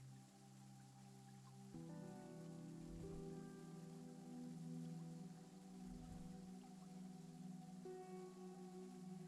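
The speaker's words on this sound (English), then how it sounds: "Still raining." Rain falls in a video game, a soft continuous patter with low tonal ambient music droning and shifting underneath, no voices.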